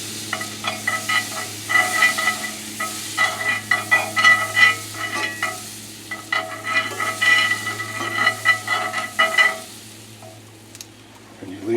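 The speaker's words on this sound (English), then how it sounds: "Leave this butter in here for a while, just a few, and it will start to turn brown." Butter sizzling and browning in a pan, with fluke on the menu: a steady crackling fizz of close, bright pops, swelling and ebbing in rhythmic bursts as it's stirred, then fading near the end.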